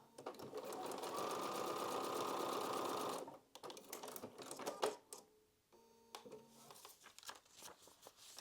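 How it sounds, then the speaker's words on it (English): Sewing machine runs a steady stitching burst on fabric pieces for a butterfly quilt block, then falls into short stops and clicks of handling, close and fairly quiet. "Lay those two right sides together and then flip it over and sew."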